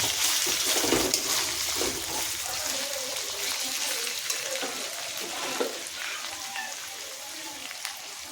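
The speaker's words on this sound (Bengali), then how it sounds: "এটা দিয়ে একটু নেড়ে নিতে হবে।" Chicken paste with tomatoes being stirred in a frying pan, giving a steady wet sizzle and soft scraping throughout at low volume.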